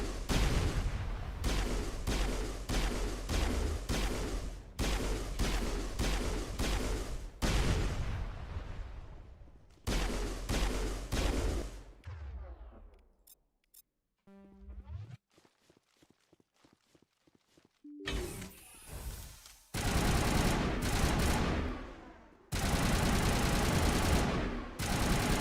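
Rapid gunfire and heavy weapon blasts in the sci-fi shooter game Mass Effect, loud volleys in bursts with a quieter pause midway before the firing resumes.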